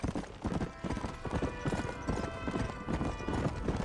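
Horse hooves galloping in Red Dead Redemption, a steady rapid clip-clop of hoofbeats running continuously and fairly loud throughout, with no talk over it.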